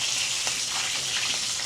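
Food frying in a pan gives a loud, close, continuous crackling sizzle with small pops scattered through it and no talk.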